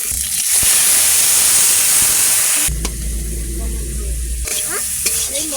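Singi fish frying in hot oil in a kadai, a loud steady sizzle with a stirring scrape and a brief quieter gap partway through, heard alone.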